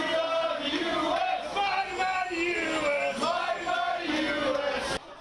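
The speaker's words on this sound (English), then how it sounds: "Local soccer fans cheering on the U.S. women's national team to victory" Fans at a packed U.S. women's national team World Cup final watch party at Beef Up Brady's in Lynn Haven cheer and yell together, a loud, sustained crowd roar with rising shouts that drops off abruptly near the end.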